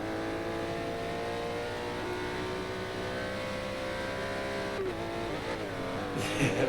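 A Lamborghini race car engine in a racing video game, a sustained high-pitched engine drone holding steady, then shifting and revving near the end, loud and close.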